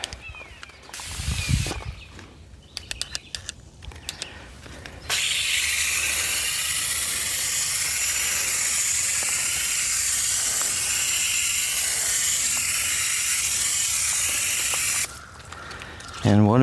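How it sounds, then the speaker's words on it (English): A water spray rinses a car wheel clean, a loud continuous hiss lasting about ten seconds, preceded by some clicking and handling noises and ending abruptly. "All right, let's rinse that clean."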